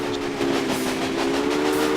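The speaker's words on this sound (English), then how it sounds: "The train's pulling loads, okay." A steam-era freight train hauls loaded cars in Railway Empire, its steady rumble carrying a sustained whistle-like tone and light rolling clatter, loud and close with no talk.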